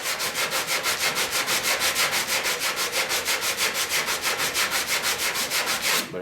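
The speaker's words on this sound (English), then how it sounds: "Now I'm able to sand that aggressively to make it flat under there" Steady, rhythmic back-and-forth sanding on wood, loud and close, a rapid scratchy stroke pattern running continuously without any talking.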